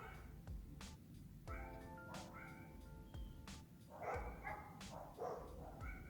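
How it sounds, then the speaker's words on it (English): Dogs bark outdoors on a Florida morning, several sharp barks spaced across a few seconds at moderate distance, with birds chirping faintly in the background. "Yeah, dogs barking and birds chirping."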